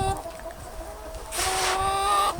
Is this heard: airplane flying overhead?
no